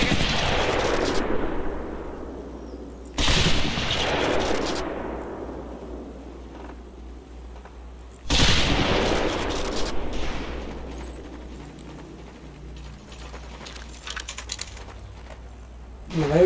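Three loud bursts of M1928A1 Thompson submachine gun fire in a video game, each sharp short volley trailing off into echoing decay, with quieter rattling and clicks between.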